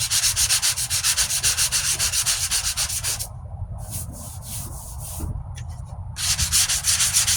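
A 1998 Ford Ranger passenger-side wheel arch being sanded by hand with coarse grit gives a loud, rhythmic back-and-forth scratching. There is a short quieter pause partway through, then the strokes resume.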